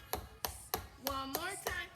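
Tap shoes strike a floor in a steady run of sharp heel taps, about seven crisp hits spaced evenly, with a brief whistle-like tone sliding between later strikes.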